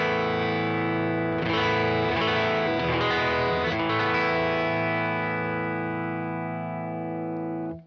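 An Eastman T64/VT electric guitar played on the neck pickup through a slightly broken-up amp, a strummed chord with a few quick picked notes ringing out and sustaining warmly, fairly quiet, with no talk.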